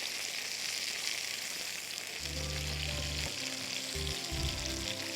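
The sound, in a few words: eggplant slices frying in oil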